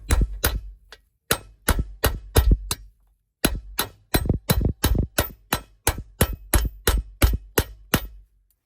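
A hammer that is coming apart strikes metal while someone works a stuck part loose: sharp, loud metallic blows in quick bursts of two to five hits, separated by short pauses.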